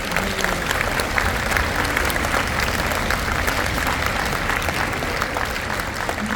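Sustained audience applause at a spring orchestra concert, clapping for the orchestra's board members, dense and steady throughout, loud and close with a full crowd of hands.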